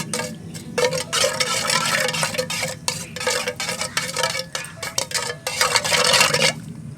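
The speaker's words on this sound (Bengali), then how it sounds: "বড় চামচের হাফ চামচ পরিমাণ ইস্ট, খুব ভালো করে নেড়ে নেব।" A spoon stirs sugar and active dried yeast in a bowl for bun bread, giving brisk, close scraping and clinking strokes in repeated bursts with short pauses between.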